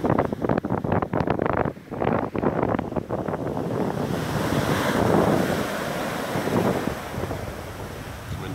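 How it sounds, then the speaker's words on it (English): Waves breaking and washing over a pebble beach near West Bay, Bridport, heard close, with gusty wind buffeting the microphone before a steady rushing surge of surf. "I'm in danger of getting my toes wet here if there's a bigger wave all of a sudden"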